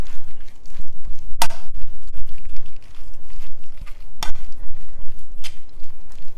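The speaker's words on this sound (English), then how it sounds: "get this spoon that I love to work with so much, so I can really stir it" A spoon works through chicken salad with mayo in a bowl, giving close, repeated soft scraping and squelching strokes with two sharp clinks against the dish.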